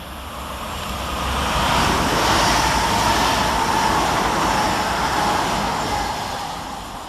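An electric train rushes past nearby through Longniddry railway station with a broad roaring whoosh that swells, holds for several seconds, then fades slightly, with no voices.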